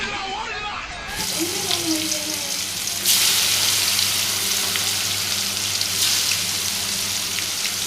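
Water in a pot on a stove bubbling and hissing in a steady close wash after a short lead-in, with no one talking over it.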